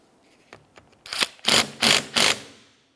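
A ratchet wrench snugs down the center mounting nut of a windshield wiper motor from a 1994-2002 Dodge Ram 2500, with a few light clicks followed by four loud, close, evenly spaced ratcheting bursts.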